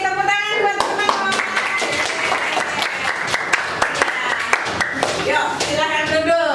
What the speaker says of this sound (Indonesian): Sampai kirim tepuk tangan buat teman-teman.